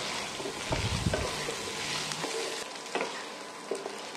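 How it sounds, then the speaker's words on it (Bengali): Diced potatoes sizzle steadily in hot oil in a pan, with a spatula scraping and stirring in irregular clicks and knocks. The frying is close and fairly loud, with no voices. "এখন আলুগুলো আমি ভেজে নিচ্ছি, বেশ একটু হালকা বাদামি করেই ভাজবো।"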